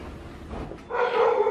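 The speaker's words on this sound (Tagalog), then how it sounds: "ang ingay ng aso" A dog at home after dinner gives a short, loud bark that stands out over a low background murmur.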